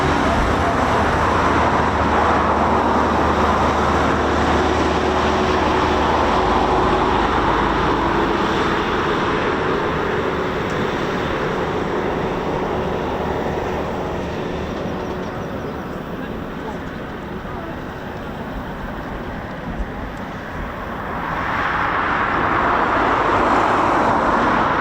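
A Eurofighter Typhoon FGR4 fighter jet arrives at RAF Coningsby with a broad, sustained jet roar that eases off in the middle and then swells again, steady and fairly loud.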